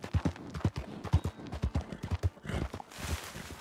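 A horse's hooves clip-clop in a quick, uneven rhythm in Red Dead Redemption 2, fairly close, with faint ambient noise behind.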